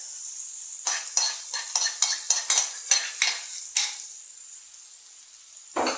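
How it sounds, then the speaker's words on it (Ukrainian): Onion and carrot are tipped into a hot pan and stirred, a run of about a dozen quick scraping clinks of a utensil against the pan over a soft sizzle, then quiet frying and a final clatter. "Всипаємо цибульку. Зразу додаю і морку."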